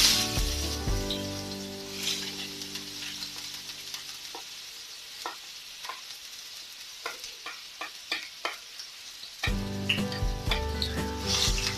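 Two sliced onions drop into hot oil for egg bhurji and hiss loudly, then the sizzle fades to a low crackle broken by sharp stirring scrapes before a loud, steady frying hiss returns near the end.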